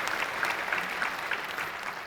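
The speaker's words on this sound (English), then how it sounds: "give them a round of applause" Applause from the audience at EVE Fanfest 2012, a video game convention presentation, a steady wash of clapping from many hands that holds at an even level throughout with no voices on top.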